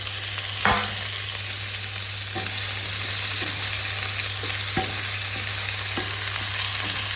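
Pieces of taro dropped into a pan of frying ginger give a steady, broad sizzle with a few sharp clatters and stirring knocks, close and fairly loud, with no voices.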